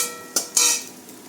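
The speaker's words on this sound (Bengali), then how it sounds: "ডিমটা প্রায় ভাজা ভাজা হয়ে এসছে। এবার এটাকে আমি বাটিতে তুলে নেব।" A fried egg is scraped out of a wok into a bowl, with two short metallic scrapes standing out over a soft background sizzle, close and brief, without any talk.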